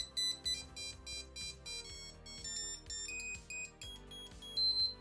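Rapid electronic beeps from an ESP32 proximity-sensor backup warning system, short high-pitched pulses repeating in a quick, slightly uneven rhythm, fairly quiet and close with no talking.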